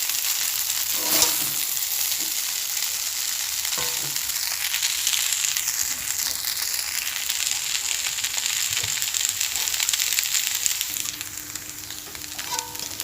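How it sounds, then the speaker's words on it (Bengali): Aloo chowmein sizzles steadily in a hot pan as a spatula stirs it, the frying hiss continuous and fairly loud with a few sharper scrapes and knocks scattered through. "তো আমি ভালো করে চাউমিনটা নাড়াচাড়া করে নিয়েছি।"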